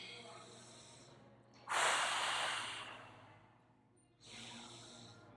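Two long, loud breaths during a pelvic tilt exercise, a broad airy rush in then a second forceful breath out a couple of seconds later, close to the listener with no talking.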